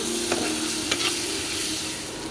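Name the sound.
stir-frying spiced dhoka and potol in a pan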